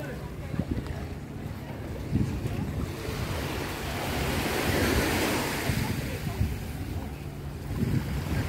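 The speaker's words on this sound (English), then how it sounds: "It's a little Dalam beach right here." Surf washing onto a small beach on Koh Phi Phi, Thailand, with longtail boats nearby; a steady broad wash of waves swells and recedes throughout, with wind buffeting the microphone and faint voices in the background.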